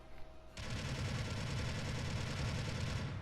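Rapid automatic fire from a prototype gun in the mecha game Gundam Battle Operation 2, a dense unbroken burst of shots that kicks in abruptly after a brief quiet start and holds steady to the end.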